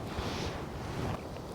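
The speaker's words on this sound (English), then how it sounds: "Okay, it's pretty windy" Steady wind rushes and buffets across the microphone, a dense, blustery roar with no other clear sounds.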